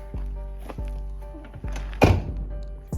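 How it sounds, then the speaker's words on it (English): Truck door on a 2005 Chevrolet Silverado shutting with a solid thunk near the two-second mark, preceded by a few lighter knocks and footsteps against a low idling hum. "close that door"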